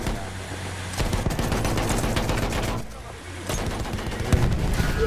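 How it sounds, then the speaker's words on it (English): Machine gun in Battlefield 1 firing sustained rapid bursts with a brief pause, loud and close amid other game battle noise. "Yeah, use that machine gun."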